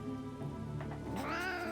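A cat in the video game Drova: Forsaken Kin lets out a harsh, angry-sounding meow that climbs near the end. It is a short, close call over a constant low hum with no voices.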